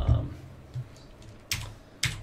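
A few sparse, sharp keystrokes on a Windows 10 computer keyboard, close and fairly quiet, separated by pauses over a low background hum.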